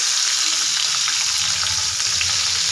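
Chopped onion and capsicum fry in a kadhai for restaurant-style kadhai paneer, producing a dense, loud, continuous sizzle with faint stirring underneath.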